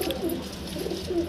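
Pigeons, including Desi, Punjabi and Madrasi breeds, coo inside a dealer's loft, a few low throaty rolling coos repeating close by over a soft background hum, with no talking.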